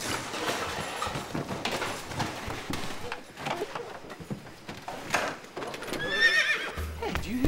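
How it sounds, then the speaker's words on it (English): A horse whinnies over a steady clip-clop of hooves, with rustling and bumps around it. "A horse!"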